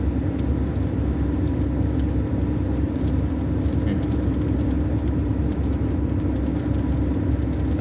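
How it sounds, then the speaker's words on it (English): A car driving, heard from inside the cabin as a loud, steady engine and road rumble with a constant low hum and no breaks, while rain may be starting. "You can probably hear my car."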